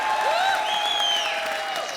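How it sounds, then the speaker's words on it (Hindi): Studio audience at the Indian TV comedy show Comedy Circus applauding and cheering: dense, steady clapping fills the whole stretch at close, even loudness, with sliding whistle-like tones rising and falling above the crowd noise. "जोरदार तालियां"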